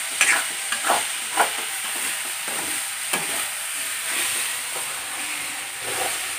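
Potato and fenugreek curry sizzles steadily in a pan with a constant hiss, broken by occasional scraping stirs of a spoon, close up and without talking.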